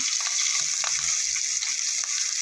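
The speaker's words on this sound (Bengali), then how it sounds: "বেগুন ভাজার তেলের মধ্যে পেঁয়াজ আর কাঁচা লঙ্কাটা" Onion and green chilli sizzle steadily in oil left over from frying eggplant, a bright continuous crackle with small pops and a soft stirring scrape, no talking.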